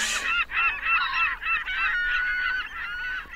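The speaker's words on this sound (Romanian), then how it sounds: "sunetul de pescăruși." Seagulls calling in a run of harsh, repeated squawking cries that follow one another almost without pause, close and fairly loud, with no voices.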